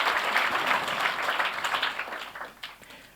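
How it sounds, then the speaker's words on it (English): Audience applause at a 2017 panel on the history of LA ska, a steady dense wash of clapping from a crowd that holds for a few seconds and then gradually thins and fades. "So give yourselves a round of applause, without exception."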